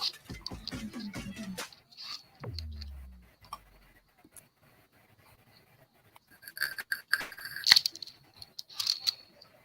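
A young pet kitten meows a few times early on, then short rustles, clinks and tapping noises follow indoors, with no talking.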